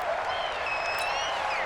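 Crowd noise in a Madden 20 video game stadium during an NFC Championship between the 49ers and Panthers: a steady, dense roar of cheering fans with whistling tones rising through it.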